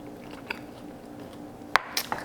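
Chewing and biting on a mouthful of homemade chicken salad during a taste test, a soft crunch early, then a few closer wet bites and mastication sounds near the end, fairly quiet and close.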